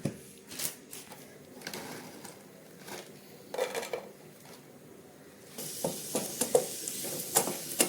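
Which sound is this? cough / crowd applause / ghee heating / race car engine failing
ghee heating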